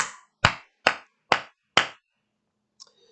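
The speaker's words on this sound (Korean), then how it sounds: "우리 하나님께 영광의 박수를 내드립시다" Five sharp, evenly spaced hand claps ring out loud and close at a church worship service, each about half a second apart, followed by near silence and a faint tap.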